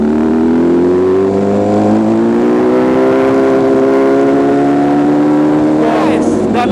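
MV Agusta Brutale 1000 engine droning loud and close while riding at the Nurburgring, a sustained rising tone climbing through the revs, with a shift or throttle change near the end.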